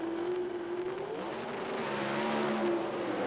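A Pontiac and a Ford Thunderbird at the 1983 NHRA Springnationals drag race down the strip, a loud sustained engine drone whose pitch drifts and climbs as they run, with no voices.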